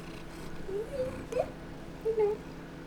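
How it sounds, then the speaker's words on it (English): A pet cat being cuddled purrs with a low, quiet rumble close by, broken by a few soft, rising chirping meows. "You are purring like crazy."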